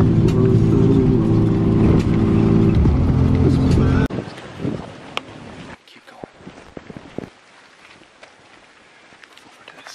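Car driving along a rural road during an afternoon outing, a loud steady engine drone for about four seconds that then drops away, leaving quieter rumbling and scattered knocks.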